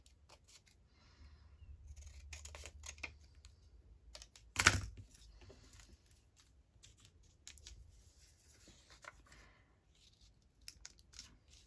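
Scissors trimming paper for a crafted library card pocket, quiet scattered snips and paper handling, close and faint, with one sharper rustle midway.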